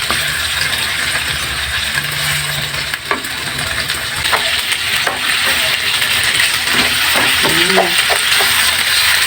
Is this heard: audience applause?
no